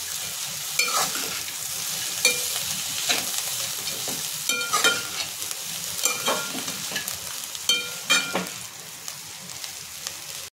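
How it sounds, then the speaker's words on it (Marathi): Leftover chapati chivda with lemon juice and coriander is stir-fried in a pan: a continuous sizzle under irregular clacks and scrapes of the spoon, close and fairly loud, without speech. "त्याच्यावरती कोथिंबीर टाकून घ्यायची आणि पुन्हा आपल्याला ते परतून घ्यायचे"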